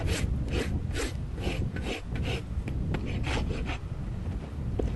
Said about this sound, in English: Rasp this heel, feather it to the toe.